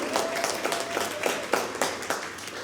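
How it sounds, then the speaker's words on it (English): A studio audience applauds with brisk, uneven clapping, individual sharp claps popping out of a steady crowd patter, while a faint tone hums underneath. "Big round of applause"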